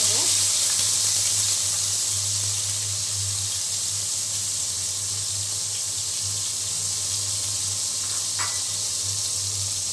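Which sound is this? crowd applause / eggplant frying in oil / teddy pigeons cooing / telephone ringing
eggplant frying in oil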